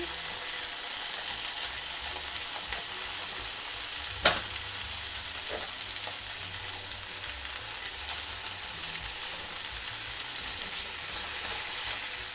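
Slices of Spam sizzle in a pan with a steady, even hiss throughout. There is one sharp click partway through and a couple of faint utensil taps.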